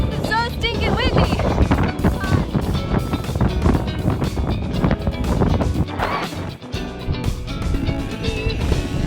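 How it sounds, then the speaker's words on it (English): Strong wind blasting across the microphone at Two Medicine Lake, loud buffeting rumble with gusts rising and falling, while people talk and call out underneath. "It's so stinking windy."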